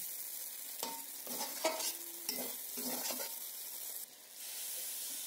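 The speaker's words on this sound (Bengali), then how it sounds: "ভেজে রাখা ডিমটা দিয়ে একসঙ্গে বেশ আবার ভালো করে মিশিয়ে নিলাম" Fried eggs being stirred into a cooked spice mixture for egg khichuri, a soft scraping and sizzling in the pan with several distinct stirring strokes, close and moderately quiet, with no voices.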